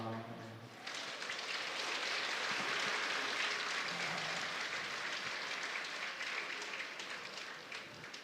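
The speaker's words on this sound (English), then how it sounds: "Thank you for your applause." Sustained audience applause at a sutra teaching and fire ceremony, a broad steady wash of clapping lasting several seconds at moderate level, following a short bit of singing at the start.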